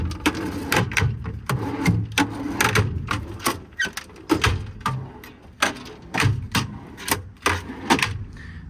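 C-Tech drawers in a compartment of a 2018 International 4400 truck are handled, giving rapid repeated metallic clacks and rattles of sliding and latching, close and fairly loud, with no speech.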